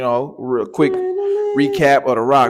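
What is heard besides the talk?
dog howling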